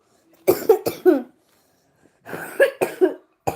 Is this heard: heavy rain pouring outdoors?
no